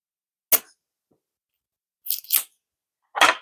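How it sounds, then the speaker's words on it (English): Scissors snipping and cutting into a package during an unboxing, three short sharp bursts of slicing and tearing separated by near silence, close and crisp. "So I'll go ahead and get some scissors and get into this one"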